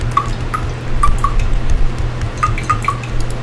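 Water sound theme from the Loud Typer app on an iMac, where each keypress gives a short, bright droplet plink, heard as scattered single and paired drips at an irregular pace, close and clear, with no talking.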